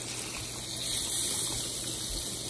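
Broth, 32 ounces of veal and pork stock, pours steadily into a hot pan to deglaze it, giving a continuous gushing, sizzling wash of liquid that swells slightly midway and holds without pause.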